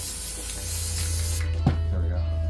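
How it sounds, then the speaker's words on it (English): A broad steady hiss of spray paint from a can runs for about a second and a half, then cuts off, leaving a low hum and a faint tap. "Just spray that part"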